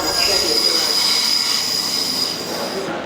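Regional train squealing through an Italian station, a sustained high metallic wheel screech ringing over steady rumbling rail noise, close and loud throughout.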